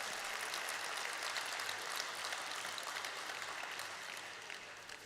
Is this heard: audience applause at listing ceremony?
yes